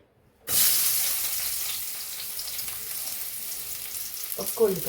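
Sliced onion hits hot oil in a pan for a spicy mushroom masala curry, bursting into a loud, steady sizzle that continues throughout, with a couple of utensil clinks near the end.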